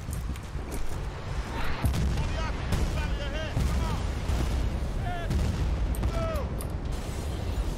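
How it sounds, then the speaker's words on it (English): Mortar rounds burst in the game Battlefield Bad Company 2, a run of booming blasts and gunfire rumbling over a dense battle din, with whistling incoming shells and voices underneath. "I love how those mortar rounds don't even touch me"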